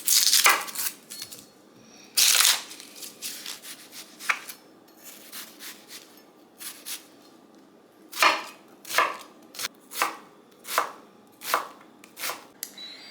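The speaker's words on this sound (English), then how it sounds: "I'm cutting up 2 onions to throw into the egg mixture for the egg bites." A knife chops through two onions on a cutting board, sharp irregular thwacks at first, then a steady run of evenly spaced cuts, close and clear with no talking.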